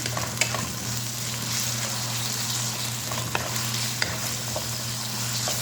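Marinated chicken is stirred in a hot pan for pancit bihon, a continuous sizzle with scraping utensil strokes and a few sharp clinks against the pan.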